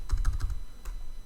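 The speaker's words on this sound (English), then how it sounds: "Let's type in" Rapid keystrokes on a computer keyboard, a short burst of close, crisp clicks followed by a couple of isolated taps, with no voices.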